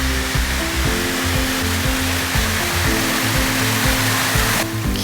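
Kumoi waterfall on the Oirase stream in Aomori pours in a loud, constant roar of rushing water, broad and unbroken, heard up close with no voices.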